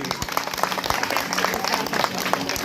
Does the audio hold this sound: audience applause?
yes